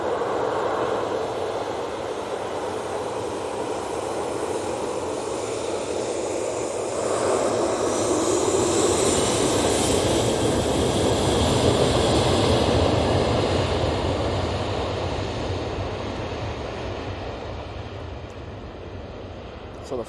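A Ryanair Boeing 737-800 takes off from Manchester Airport, a broad rumbling jet roar at moderate distance that swells in the middle and slowly eases, steady and continuous.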